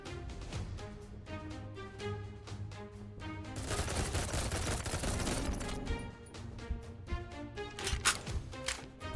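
Rapid hip-fired gunfire in an army shooter game, a steady stream of sharp repeated shots with a heavier burst of dense firing in the middle, loud and close.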